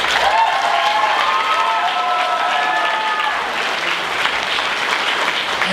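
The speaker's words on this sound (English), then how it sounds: "So please give these folks a round of applause" Loud, steady applause from an audience at a volunteer fire department's 50th anniversary awards ceremony, honoring duty crew officers, with scattered whoops and cheers rising over the dense clapping for about six seconds.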